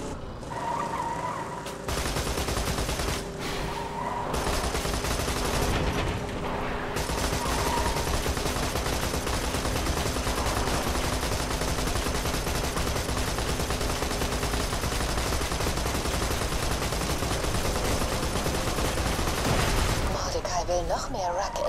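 Gunfire in the video game Borderlands 2: sustained, dense rapid shooting with heavy combat noise that fills most of the stretch, with people speaking German over it.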